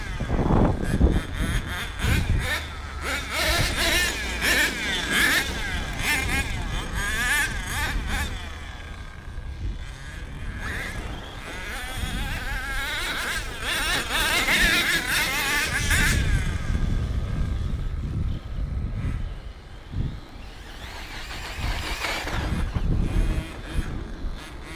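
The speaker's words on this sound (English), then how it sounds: "Monster truck!" Kyosho Mad Force GX 21 nitro RC monster truck driving over rough ground, its small engine buzzing and revving steadily for a long stretch, loud and close with wind rumble on the microphone.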